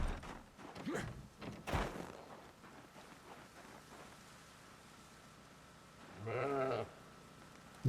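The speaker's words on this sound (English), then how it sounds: "let's go shear some more sheep" A single sheep bleats once, fairly clear and close, in the Project Zomboid video game during a sheep-shearing session, set against a soft rain ambience after some earlier rustling sounds.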